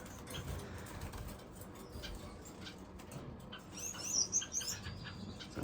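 Shaft-tail finches call in a bird room, giving soft, sparse chirps and coos with a brighter flurry of high tweets near the end, over quiet room noise.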